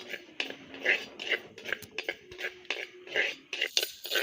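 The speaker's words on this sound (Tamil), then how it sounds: "வெறும் சட்டியிலே நம்ம வெந்தயத்தை வறுத்து எடுத்துக்கலாம்" Fenugreek seeds dry roasting in a plain pan, stirred with a metal spoon that scrapes and clinks in a quick, uneven rhythm of close, light strokes.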